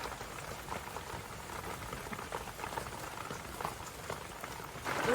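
Steady bubbling and popping of a pot simmering on the stove, a dense crackling texture that continues evenly throughout with no voices.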